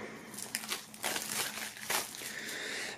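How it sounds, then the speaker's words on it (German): Plastic shrink wrap on a boxed album being slit and peeled open, a run of close crinkling and tearing bursts with sharp crackles over about three seconds, no talking. "Das ist ja auch noch in Folie. Werden wir direkt mal aufschlitzen."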